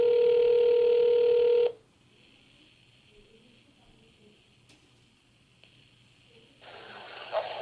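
A loud telephone ring tone plays alone on a call to a corporate office, then stops, and after several seconds of near silence a second ring begins.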